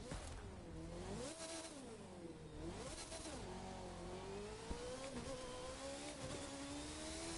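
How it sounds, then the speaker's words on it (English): F1 race car in The Crew 2 with a high-pitched engine whine that rises and falls through gear shifts and throttle changes, steady and prominent throughout, with a faint tire squeal. "Imagine daily driving an F1 race car."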